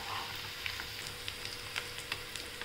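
Potatoes for dum aloo frying in hot oil, giving a soft, steady sizzle with small scattered pops and crackles, faint and close, with no voices.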